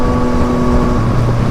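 A Yamaha FZ-09 motorcycle engine drones loudly and steadily close by, its tone shifting lower near the end as it downshifts, with wind rushing over it.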